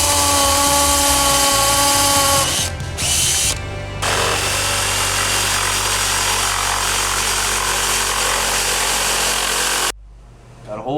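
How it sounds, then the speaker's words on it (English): A power drill cuts a hole through the wooden floor of an Airstream RV, a loud continuous whirring grind that changes tone partway through and then stops abruptly near the end. "So let's get to drilling."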